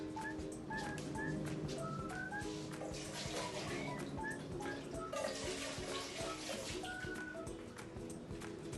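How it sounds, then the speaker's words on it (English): Running water steadily rinsing a cup in a kitchen, a continuous close splashing flow lasting throughout with faint clinks. "But before I put water, I rinse the cup out."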